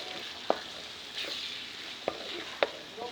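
Rounds of sliced green chilli fry gently over a low flame, a soft steady sizzle with a few sharp clinks of a spoon against the pan, close and quiet, no voices.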